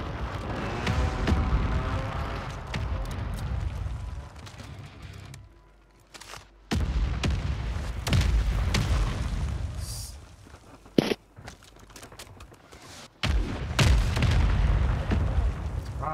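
Repeated booming explosions in the video game Warzone, heavy low rumbles and blasts that come in loud clusters separated by brief quieter gaps, with a sharp pop standing out.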